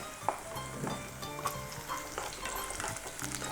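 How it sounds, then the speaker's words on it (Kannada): Chopped onions fry steadily in a hot pan with a continuous close sizzle, broken by occasional scraping stirs and light clinks of a utensil against the pan. "ಈಗ ಚೆನ್ನಾಗಿ ಫ್ರೈ ಆಗ್ತಿದೆ"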